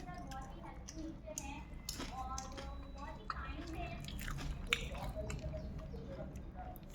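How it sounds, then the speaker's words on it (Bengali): Close, soft chewing and biting of roti eaten with coriander leaf paste, moist and irregular, with a voice faintly present at times. "ধনিয়া পাতা বাটা দিয়া রুটি দিয়া খাই দেখেন যে স্বাদ"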